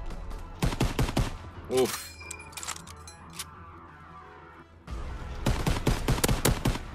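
M1 Garand rifle fire in Call of Duty WW2 multiplayer comes in sharp clusters of shots at the start and again near the end, with a quieter stretch between and a brief spoken exclamation.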